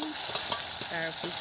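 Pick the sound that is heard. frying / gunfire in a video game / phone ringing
frying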